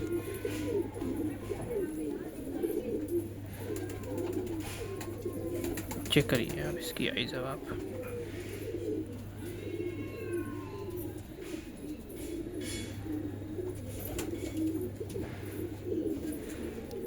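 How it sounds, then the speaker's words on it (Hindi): A male pigeon coos in repeated low bouts at a home loft, steady and moderately near, while someone talks over it. "ये हमारा 3rd कबूतर है ना, 3rd कबूतर है और पहला मेल है।"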